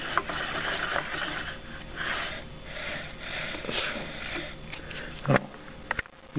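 Metal fan being screwed onto the armature shaft of a Kirby Heritage 2 vacuum, with a screwdriver held against the fan to stop it turning; close, steady scraping and ratcheting metal clicks with a few sharper clacks near the end.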